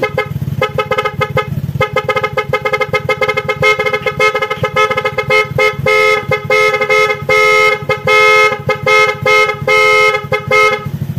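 The stock horn of a Honda Airblade 150 motorcycle honks repeatedly in short bursts and longer blasts, very close and harsh, with no talking.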